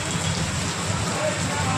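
Rain pours steadily in Gujarat, a constant hissing patter close by, unbroken for the whole short stretch.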